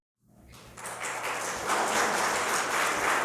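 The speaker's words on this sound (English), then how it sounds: "That's nonpartisan clapping, of course." A congregation at a Sunday service bursts into applause at election news, clapping rising from silence into a broad, steady wash of many hands that swells and holds.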